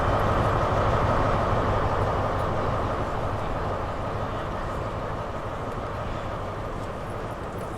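A Class 153 single-car diesel train in Train Sim World 5 pulls into a platform on the Cardiff City network, giving a steady low rumble and hum that fades gently as it slows, with no talking.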